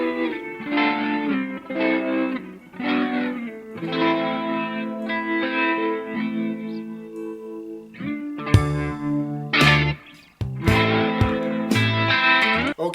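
A Les Paul electric guitar with a semi-clean, slightly driven tone plays ringing chords and melodic phrases, with some choppy palm-muted strums near the end.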